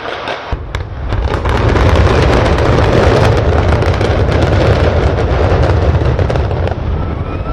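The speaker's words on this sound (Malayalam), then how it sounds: "വലിപ്പം കുറഞ്ഞ ഗോൾഡൻ കായലോരവും നിയന്ത്രിത സ്ഫോടനത്തിലൂടെ നിലം പതിച്ചത്" Controlled demolition of apartment towers by explosives: a loud, sustained rumbling roar of blasts and collapse that starts abruptly after a brief quiet and holds steady for several seconds, with crackling bursts throughout.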